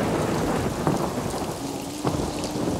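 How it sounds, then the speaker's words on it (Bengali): A thunderstorm effect for a Bengali horror audio drama: steady heavy rain hisses throughout while a couple of sharp thunder cracks and rumbles break through, with no voices. "কিন্তু শুরু হলো মুহুর্মুহু বজ্রপাত আর বৃষ্টি"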